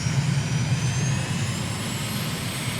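A simulated airliner's engines spool up on final approach to Ho Chi Minh City in a flight simulator, a steady broadband jet roar with a low rumble and faint rising whine, loud and continuous throughout.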